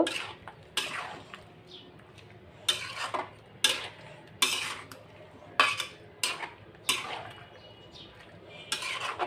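Raw mango pickle with chili powder is stirred in a pan, making a series of scraping, clinking utensil strokes against metal, close and moderately loud, with no talking.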